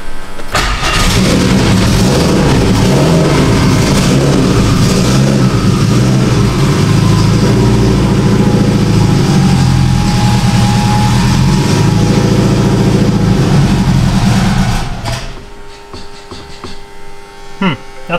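A heavily modified 1100 whp Subaru STI engine cranks, fires and runs loud and rough for about fifteen seconds, with uneven throttle surges, before cutting out to quieter clicks and faint sounds.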